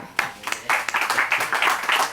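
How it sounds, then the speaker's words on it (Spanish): Audience clapping at a book presentation event, a short burst of applause that starts sparse with a few distinct claps and quickly builds into a fuller, close round of hands. "Un aplauso."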